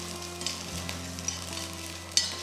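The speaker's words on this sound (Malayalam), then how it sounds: "ഞാൻ കടുക് പൊട്ടിക്കുന്ന കൂടെ തന്നെയാണ് തേങ്ങ മൂപ്പിക്കാറ്" Mustard seeds popping alongside coconut frying in hot oil in a pan for a beef and tapioca biryani, a steady close sizzle with scattered small crackles and one sharper pop near the end.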